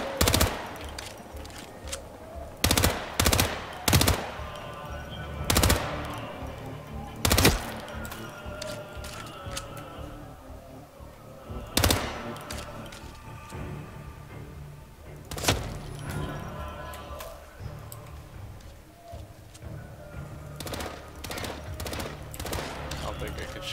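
Gunfire in the Hitman video game's Marrakesh level comes as loud, sharp bursts and single shots spaced irregularly across the stretch. They stand over steady background game ambience, and a voice talks at times between them.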